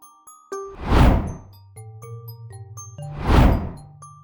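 A notification bell effect rings twice, each a bright, ringing ding-dong chime with a shimmering tail, loud and close, over soft tinkling tones and no talk.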